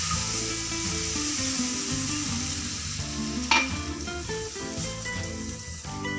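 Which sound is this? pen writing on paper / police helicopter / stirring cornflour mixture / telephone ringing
stirring cornflour mixture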